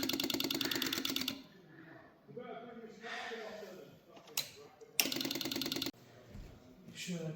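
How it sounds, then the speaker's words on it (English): Fuel pump on a fire-damaged 1980s Yamaha motorcycle running in rapid mechanical clicking bursts, close and fairly quiet, stopping and restarting with quieter gaps between. "You can see the fuel pump is working, the fuel is going through."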